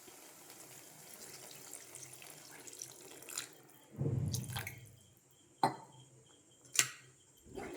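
Small splash of water poured into a pan of cooking tomato thokku, a short burst of running, sizzling water followed by a few sharp clinks and drips, close and alone.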